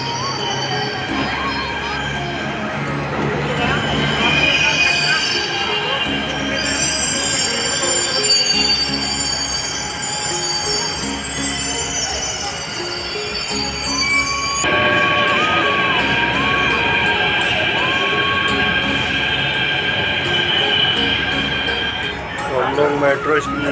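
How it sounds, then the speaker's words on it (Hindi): A Delhi metro train runs along the line, a sustained rumble of wheels on rails with occasional squealing and tonal whines, loud and close throughout, while voices and crowd noise carry on underneath. "मेट्रो चल चुकी है"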